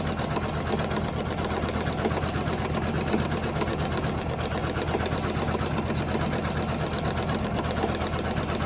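A Janome 500e embroidery machine stitches a Halloween napkin, giving a continuous fast mechanical whir with a rapid, even needle rhythm, steady and close with no talk.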